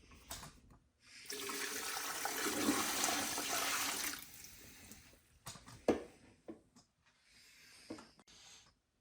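Water gushes steadily into a plastic cooler for a turkey brine, a loud pouring rush lasting a few seconds, followed by quieter sloshes, splashes and clunks close by.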